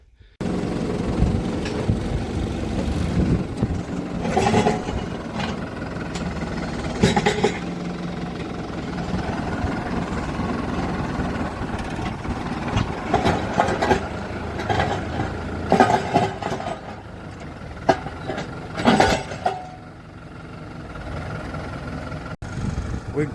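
Tractor engine running at a rural farm site, a steady mid-pitched rumble heard at moderate distance with occasional clunks and brief louder bursts.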